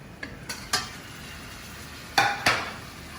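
Chicken pieces stirred into melted butter in a pan, giving a handful of distinct clinks and scrapes of a utensil against the pan in an irregular rhythm, with a soft sizzle underneath and no talking.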